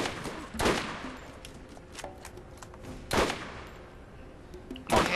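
Bursts of gunfire ring out while shooting an enemy in the video game Borderlands, three loud volleys near 0.7, 3.2 and 5 seconds over a low game background with scattered smaller sounds between.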